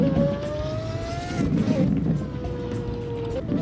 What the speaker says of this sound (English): Revs for you guys. This car just sounds so good.